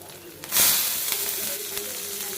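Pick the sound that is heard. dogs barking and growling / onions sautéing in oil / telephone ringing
onions sautéing in oil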